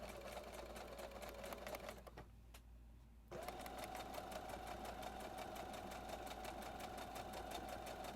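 A sewing machine stitches a reversible bucket hat in a fast, steady hum, quiet and close, pausing for about a second before resuming its even run.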